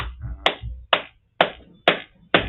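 A single pair of hands claps out a tempo, six sharp, evenly spaced claps close up with silence between them, a low voice murmuring briefly at the start.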